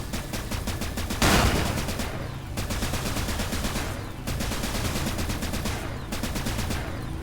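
Vulcan laser heavy weapon firing in the video game Cryptark: rapid, continuous automatic bursts with a sharp rhythmic pulse, stopping briefly between long volleys, close and loud with no talk.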